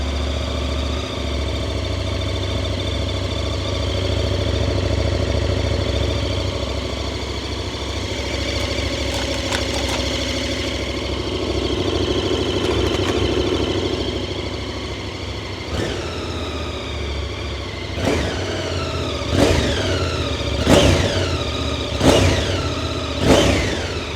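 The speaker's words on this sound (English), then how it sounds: "Now for the moment of truth, we should start the engine." A brand-new KTM 1390 Super Adventure S motorcycle engine fires up and settles into a steady idle, then gives several sharp revs near the end, each blip rising and falling.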